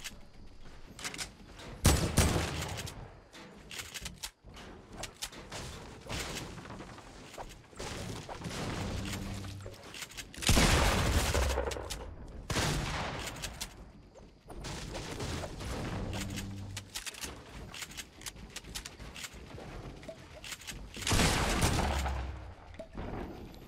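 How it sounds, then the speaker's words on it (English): Pump shotgun blasts and other gunfire erupt in repeated bursts during a Fortnite solo match, with loud, sharp shots scattered across about twenty-four seconds and brief lulls between clusters. "your pump shot sucks"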